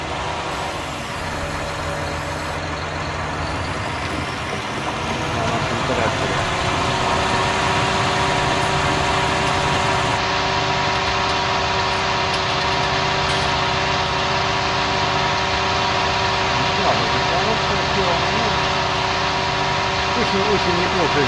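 A John Deere tractor engine runs steadily in Farming Simulator 2019, a loud continuous drone that holds from start to finish, rising a little in level after the first few seconds.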